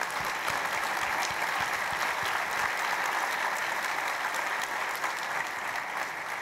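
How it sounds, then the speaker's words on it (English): Sustained applause from a large conference keynote audience at an OpenStack event, steady dense clapping filling the room throughout with no pauses. "Now, let's give them a round of applause."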